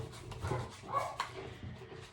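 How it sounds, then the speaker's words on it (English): Dogs bark and whimper indoors at moderate distance, a few short yelps and pants spread over about two seconds with no talk. "the dogs start barking, which is so much fun"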